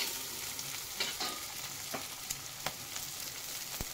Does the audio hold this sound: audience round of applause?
no